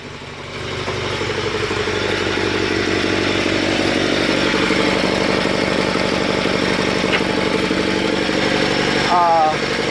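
Sears Suburban SS16 lawn tractor engine running at a steady, loud, close idle, a rough rhythmic chugging drone that holds for the whole stretch before briefly changing at the end.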